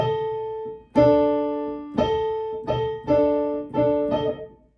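A tritone (augmented fourth) interval from Saint-Saëns' Danse Macabre, played as sustained harmonics in repeated attacks, about five strikes evenly spaced, each ringing briefly before the next; no voices.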